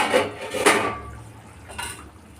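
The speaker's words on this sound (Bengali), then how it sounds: "চিকেনটাকে আবার একটু নাড়াতে হবে" Metal spatula scraping and clinking against a pan while stirring chicken kosa, a few distinct knocks and scrapes close by, then quieter.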